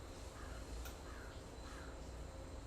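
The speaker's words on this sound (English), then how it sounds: "the crows started making noise" Several crows caw outdoors in a few harsh calls, fairly distant, over a steady background hiss, with no one speaking.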